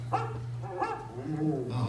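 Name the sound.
dog barking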